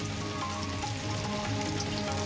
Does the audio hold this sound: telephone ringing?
no